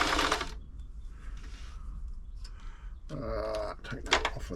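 New Home 641 sewing machine running a straight stitch with the needle going forwards and backwards, a close mechanical whir in short bursts with brief pauses between runs.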